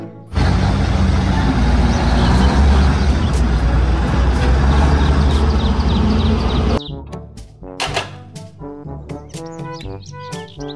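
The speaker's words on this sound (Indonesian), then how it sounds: "Mobil dump truck." Toy dump truck from a children's toy vehicle collection, heard as a loud, steady mechanical whirring and grinding that runs for several seconds, then stops and gives way to scattered clicks, clatter and chirpy tones.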